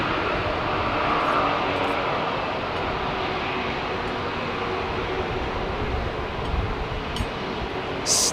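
A China Eastern Boeing 777 jet at Heathrow Airport gives a steady, loud broadband roar that holds evenly throughout, with no speech over it.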